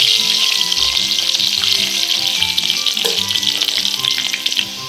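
Chopped garlic frying in hot oil in a pan for chili chicken, a steady close, loud sizzle with bright crackling throughout, plus a few faint clinks of stirring.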